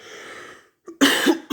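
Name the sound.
a person coughing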